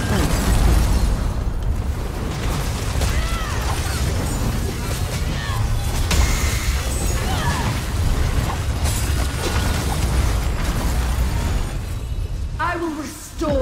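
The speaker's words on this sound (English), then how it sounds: "Use the bomb." A bomb goes off in the Elder Scrolls Online Gold Road story quest, a dense, loud roar of blasts, bursts and crumbling debris that fills the whole stretch, with game voices and effects layered in.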